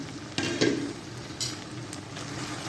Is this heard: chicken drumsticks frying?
yes